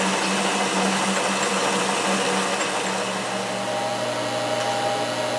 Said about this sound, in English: Now I just need to turn that down to 2 3/4. Yeah, my lathe will only handle about 10 thousandths at a time.